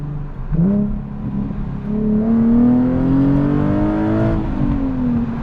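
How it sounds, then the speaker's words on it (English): A Nissan 370Z sports car revs its engine, the exhaust note climbing smoothly in pitch, dipping briefly, then rising again and holding before falling back. It stays loud and close throughout, with no voices. "add in the auto rev matching, the really good exhaust note"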